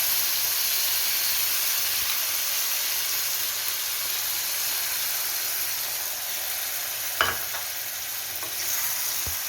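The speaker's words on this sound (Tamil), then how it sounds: "நம்ம அரைச்சி வச்சுருந்த மசாலாலாம் எண்ணெயில் நல்லா வதங்குற வரைக்கும் மிக்ஸ் பண்ணிக்கோங்க." Ground masala paste frying in oil with onion and garlic for Chettinad vathakulambu: a steady, close sizzle and hiss throughout, with a single spoon knock against the pan near the end.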